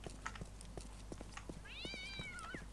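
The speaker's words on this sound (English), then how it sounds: "Are there kitty cats?" A cat in the game Postal 2 gives one clear, drawn-out meow that rises and falls, over a steady game background with faint scattered ticks.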